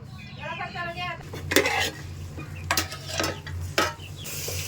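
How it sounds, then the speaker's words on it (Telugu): A sweet mixture for kajjikayalu filling is stirred in a pan over a low flame, with a few sharp scrapes and clinks of the spoon against metal over a steady low hum, close and alone. "ఇలా దగ్గర పడే వరకు ఇలా తిప్పుతూనే ఉండాలండి సన్నని సెగ మీద"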